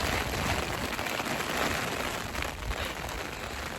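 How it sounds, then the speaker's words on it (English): Rain falls on an umbrella during a walk, a dense, steady patter of drops close overhead, constant and fairly loud without pauses. "I love the sound of rain against an umbrella."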